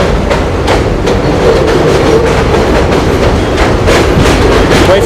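A train rolls past loudly in Pelham Bay, in the Bronx, a dense, close rumble with a steady clickety-clack of wheels over rail joints, heard alone without talk.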